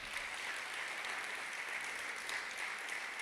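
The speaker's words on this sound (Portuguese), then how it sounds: "Dê um aplauso a Deus para acordar todo mundo." A church congregation applauds, dense continuous clapping that stays even and fairly distant throughout, with no voices over it.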